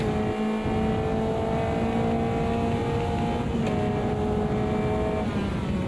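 A Caterham Superlight race car engine in Automobilista 2 at Cadwell Park holds a loud, steady, buzzing drone that shifts pitch as it changes gear partway through, with no voices over it.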